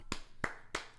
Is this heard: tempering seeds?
no